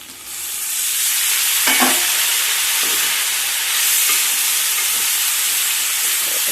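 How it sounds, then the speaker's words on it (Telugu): Tomato is stirred into green banana curry frying in a pan, giving a steady, loud sizzling hiss with scraping stir sounds throughout and no voices. "సో ఇప్పుడైతే మనం టొమాటో అయితే యాడ్ చేసుకుందాం."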